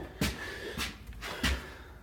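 A newly installed interior door swings shut on its own in a house under walkthrough, giving a few soft knocks and latch clicks spread over two seconds in a quiet room.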